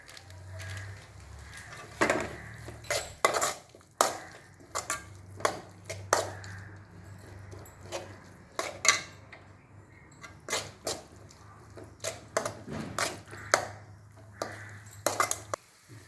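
A spoon clinks and scrapes against a bowl while Gobi Manchurian ingredients with pepper are mixed, sharp intermittent taps in an irregular rhythm over a faint low hum, close and fairly quiet.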